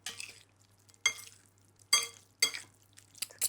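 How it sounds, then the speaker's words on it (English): Spoon and fork toss a duck and lentil salad in a bowl, making four or five short, close rustling clatters separated by quiet pauses. "Grab a spoon and a fork, and we'll just toss everything together."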